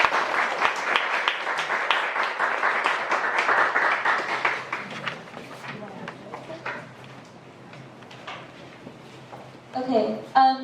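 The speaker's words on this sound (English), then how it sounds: "please welcome Sarah with a big applause." Applause welcoming a guest speaker Sarah at a talk: a small group's clapping is fairly strong at first, then thins into scattered claps before a voice begins speaking near the end.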